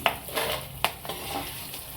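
Whole spices dry-roasting in a pan, stirred with a few sharp scraping clicks of a spoon against metal over a soft, dry rustle.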